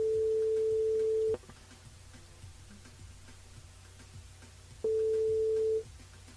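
Telephone ringback tone on a call back to a radio listener, two long steady beeps, each about a second and a half, with a long quiet gap between them, clear and alone.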